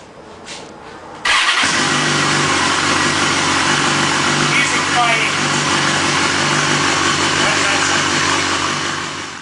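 BMW S1000RR sport bike fitted with a Taylor Made Racing exhaust, silent at first, then the engine fires abruptly and settles into a loud, steady, close idle that holds to the end.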